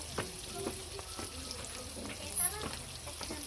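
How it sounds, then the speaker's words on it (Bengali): Cubed onions frying in a pan for a picnic pulao, a soft continuous sizzle with stirring scrapes and utensil taps, with faint voices in the background. "পেঁয়াজটাকে কিউব করে দিয়ে ভাজতে শুরু করলাম"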